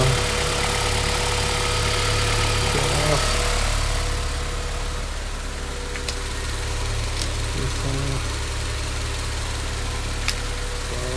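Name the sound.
Honda Civic Type R engine idling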